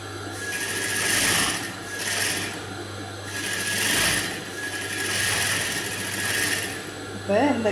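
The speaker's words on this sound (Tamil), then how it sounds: "இந்த எட்ஜில் ஒரு 1/4 இன்ச் அளவுக்கு மடித்து தைச்சிக்கணும் ஒரு ஓரம்." Sewing machine stitching a folded quarter-inch edge for blouse piping, its mechanical whir rising and falling in several bursts over a steady low hum, with a brief voice at the end.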